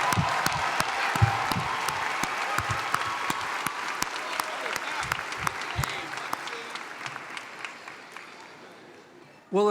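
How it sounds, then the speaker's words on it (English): Sustained audience applause fills a university commencement hall for the College of Arts and Sciences, a dense steady wash of many hands clapping that tapers slightly near the end. "Will the spouses, children, and grandchildren of our candidates please stand and receive our applause?"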